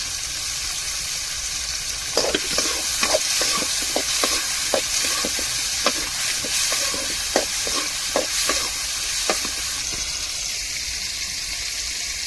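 Onions and tomatoes sauté in a hot pan with a constant bright sizzle, while a spoon knocks and scrapes through them in a quick, irregular series of clicks over most of the stretch.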